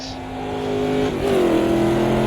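Race car in the Automobilista 2 racing game revs loudly, then a gear change into fourth drops the engine pitch briefly before it climbs again, heard up close without talk.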